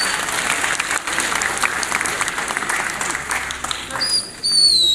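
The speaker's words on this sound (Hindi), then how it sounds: "एक बार सभी कलाकारों के लिए जोरदार तालियां मैं चाहूंगा।" At the fifth Haryana International Film Festival in Kurukshetra, an audience claps for the film artists, a moderate spread of hand claps that rises and dips, joined by a high whistle-like tone near the end.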